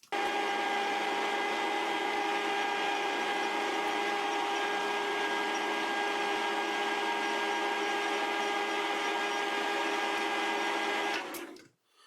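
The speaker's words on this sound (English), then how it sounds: "a cut off from the same tractor bolt that we made the arbor from, and I'm gonna try and drill a hole" A drill held in a chuck bores a hole through a cut-off piece of tractor bolt, giving a steady, loud machine whine that holds for about eleven seconds, then stops abruptly, with no talking.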